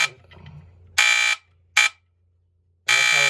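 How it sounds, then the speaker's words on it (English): A Firex FXW-1 smoke alarm sounding during a test, piercing high electronic beeps in three bursts, the first and last long, the middle one short, with silent gaps between them, very close and loud. "that's how it would test the alarm."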